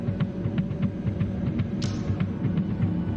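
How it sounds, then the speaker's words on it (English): A heartbeat drum effect from the video game Tokyo Dark throbs in a steady, rhythmic low pulse over a constant humming drone, with no voices. "I like this heartbeat sound"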